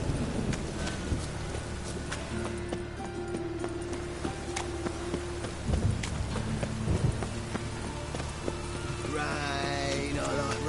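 Steady rain pours throughout in The Witcher 3, with low rolling thunder rumbling in the background and a brief animal call near the end.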